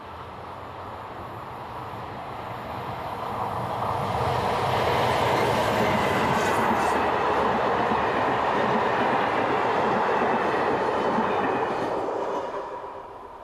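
A dual-voltage electric locomotive hauling a passenger train from Chambéry to Modane approaches and rolls past, its rumble and rhythmic wheel clatter swelling to a steady roar before fading at the end.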